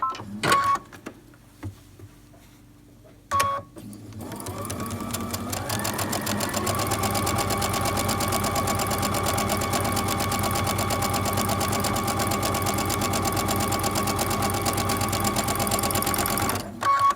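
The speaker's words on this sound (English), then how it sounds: "now I'm going to go and sew that 1/4 inch seam along both sides of both lines" A sewing machine runs a steady quarter-inch quilt seam for a quilt block, a loud continuous motor whir after a few brief starts and stops, holding even speed for many seconds before halting.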